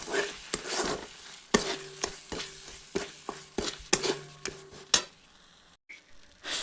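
Sugar being stirred into a mixture in a pan for a no-onion, no-garlic white paneer dish, with a steady series of sharp spoon scrapes and clinks against the pan over a soft sizzle, ending in a brief quiet gap.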